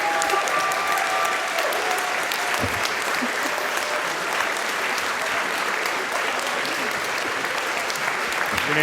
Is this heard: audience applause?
yes